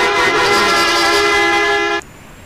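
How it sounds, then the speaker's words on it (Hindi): A bus horn in the Indian Bus Simulator video game gives one long, steady, loud blare lasting about two seconds, then cuts off abruptly. "हॉर्न"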